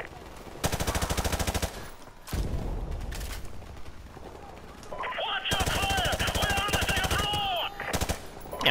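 Sustained machine gun bursts in Call of Duty: Modern Warfare Remastered on the Bog mission, loud, rapid and continuous, with short gaps between long volleys and a whine of other game effects in the later bursts.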